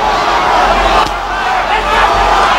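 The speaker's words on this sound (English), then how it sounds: "The crowd trying to urge Holyfield on." A boxing arena crowd roars during the Holyfield vs Moorer heavyweight fight, a dense, sustained din of voices with a commentator talking over it.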